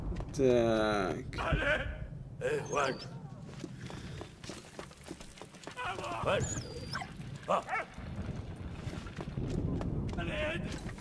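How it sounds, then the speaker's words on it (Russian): Dog barking in the video game Valiant Hearts: The Great War, a few short barks near the start amid game sounds and footsteps, with someone talking over much of it. "собачка здесь"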